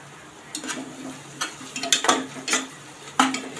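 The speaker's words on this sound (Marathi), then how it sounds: "किसलेलं जे आला लसूण आहे ते घालत आहे ते पण चांगलं कांद्यावर परतून घ्यायचं आहे तेलावर" Grated ginger and garlic are sautéed with onion in oil, with a soft sizzle under a few separate spatula scrapes and stirring knocks that come close and at an uneven pace.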